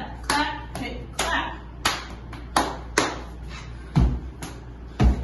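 Sharp hand claps from a step dance routine ring out in a rhythmic pattern, about a dozen crisp hits spaced unevenly with a couple of heavier stomp-like thuds near the end.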